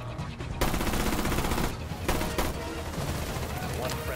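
Rapid automatic gunfire crackles in bursts during a Rainbow Six Siege match, dense and close, with short pauses between volleys and players talking alongside.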